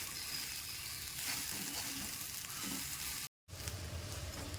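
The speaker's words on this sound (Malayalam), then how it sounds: "ഇനി നല്ലോണം വറുക്കാം." Grated coconut and shallots with fennel seeds and curry leaves sizzle and crackle steadily in a hot pan, a close, continuous frying hiss with a brief dropout near the end.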